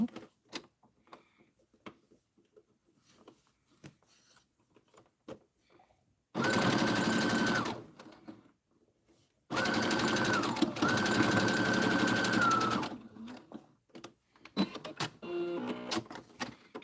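A sewing machine stitches across a boxy popcorn zipper pouch in two long, steady, close runs, the second longer, with quiet fabric handling and soft clicks between them.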